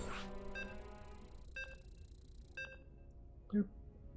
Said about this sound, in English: Oh, I forgot again that it's only 3 beeps.